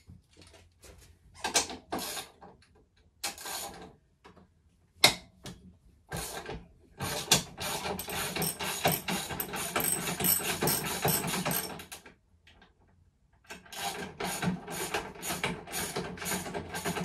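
A ratchet wrench loosens the sprocket nuts on an MT 125 motorcycle, with quick bursts of close, crisp ratcheting clicks and a longer sustained run of rapid clicking, separated by short pauses.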